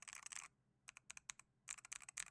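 Fast clacky keystrokes on a $50 budget keyboard with Pro Axis switches, arriving in quick bursts separated by short pauses, crisp and close but recorded quietly.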